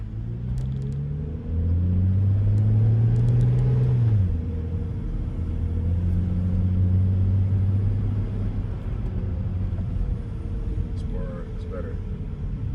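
A car in drive sport mode gives a steady low engine drone that climbs in pitch as it accelerates, then settles into an even cruise with road rumble, under faint muffled voices.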